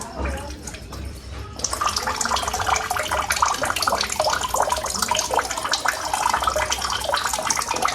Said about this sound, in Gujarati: બીજો ગ્લાસ એથી ભરાઈ ગયો છે